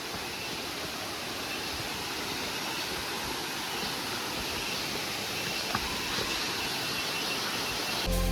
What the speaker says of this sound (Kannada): ಇಲ್ಲಿಂದ ನೀರು ಇಳಿತಾ ಇದೆ ಜರಿ